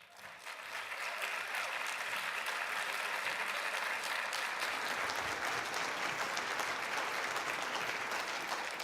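Conference audience welcoming Ohio Governor John Kasich at the Faith and Freedom Coalition gathering, applause rising quickly and holding as a dense, sustained wash of clapping.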